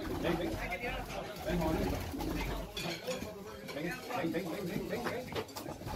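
Pigeons coo softly at a loft where homing pigeons are awaited, low repeated calls sitting under people talking nearby.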